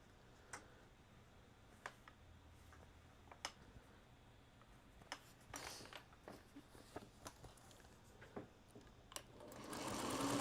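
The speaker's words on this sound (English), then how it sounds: "I have one more to sew together, and then I can put the block together." A sewing machine stitches quilt pieces together in short, quiet bursts of rapid ticking needle strokes, stopping and starting several times, with a louder rushing noise building at the very end.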